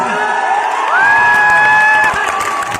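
A large crowd at a political rally cheers loudly and continuously, with whoops and high whistles rising over the roar, close and sustained for a few seconds.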